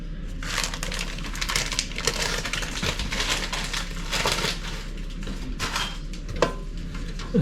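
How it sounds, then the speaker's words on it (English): Cheese being grated over the top of a homemade bacon and egg pie, a steady dense scratching rasp that runs for several seconds, close and fairly loud, with a few clinks of kitchenware. "I'm just going to grate some cheese over the top of that pie"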